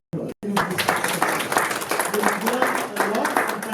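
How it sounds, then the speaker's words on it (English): Applause for panelists at a seminar, a dense, even patter of many hands clapping close by, starting abruptly after a short gap and continuing steadily to the end. "I think our panelists really deserve a round of applause."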